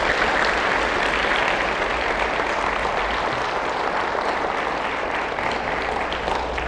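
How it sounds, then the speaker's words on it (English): Sustained audience applause fills a hall at an award ceremony honoring distinguished recipients, a dense, steady clapping that holds at an even level throughout with no voices breaking through. "One more round of applause for those folks."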